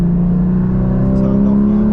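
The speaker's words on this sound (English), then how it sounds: "We can just rev match just because we can." A Porsche GT4 engine revs during a rev match: a loud, sustained low drone with strong harmonics that rises slightly, heard from inside the car with a voice talking over it.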